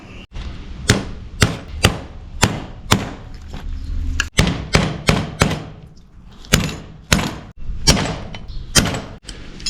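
Sharp metallic knocks and taps as metal tabs are pried up on a 1952 Willys pickup door latch, one after another in an uneven rhythm, close by, with brief pauses between clusters of hits.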